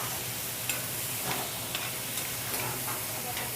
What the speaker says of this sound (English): I like to add water to the sauteing food.